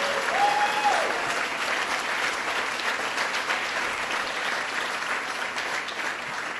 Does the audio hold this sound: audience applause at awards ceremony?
yes